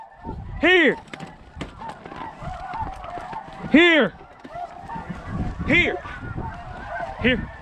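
Ross's geese honking during a hunt, several loud nasal calls rising and falling at irregular intervals, some close and others farther off, with people talking quietly in between.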